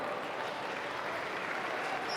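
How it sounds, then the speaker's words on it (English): Applause rolls steadily through a table tennis hall at the 2017 German Open men's singles round of 16, a dense, even wash of clapping that holds at a moderate level the whole time without pause. "watching Wang Hao clap"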